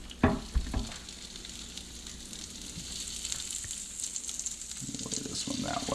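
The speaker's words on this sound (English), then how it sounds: "You hear that sizzle? That's what you want." Walleye fillets sizzle steadily in a hot pan, a continuous close frying hiss after a few brief knocks at the start, with faint handling noise toward the end.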